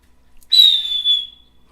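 A person imitates a hawk's call with a single loud, high whistle that starts sharply, then glides slowly downward and fades over about a second, heard alone and close.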